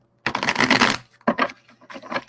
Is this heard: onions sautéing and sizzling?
no